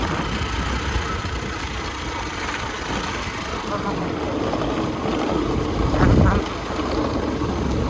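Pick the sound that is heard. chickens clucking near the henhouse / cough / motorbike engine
motorbike engine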